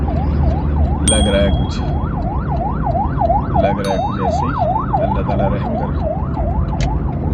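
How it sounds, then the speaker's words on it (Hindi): Ambulance sirens wail in a loud, rapid rising-and-falling pattern close by on a road, with traffic noise underneath and brief horn-like tones, while someone speaks quietly over them. "लगता है कुछ मेजर एक्सीडेंट्स वगैरह कहीं हुए तो उसके एक के बाद एक एम्बुलेंस आ रही।"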